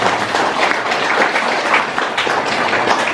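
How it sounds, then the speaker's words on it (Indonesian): Audience applause for Bapak Dimas at a charity gathering at Masjid Al Iman Bongsari, a steady dense burst of many hands clapping, loud and continuous throughout with no voices over it. "tepuk tangan untuk Bapak Dimas."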